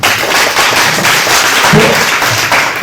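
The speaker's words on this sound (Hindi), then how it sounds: "ताली हो जाए तुम्हारा" An audience at a foundation event claps together, producing a brisk, loud patter of many hands that fills the short moment without talk.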